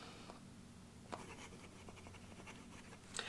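Pen nib scratching across paper as someone writes with a Monteverde Super Mega fountain pen fitted with an Omniflex nib, faint and close, with small strokes and taps over a quiet background.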